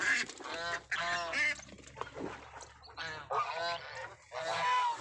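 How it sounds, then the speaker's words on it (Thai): Geese honk repeatedly in loud, harsh bursts, several calls overlapping close by. "นี่หานเรา"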